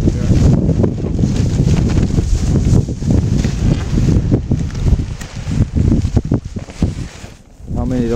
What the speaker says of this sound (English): So it's good to be windy.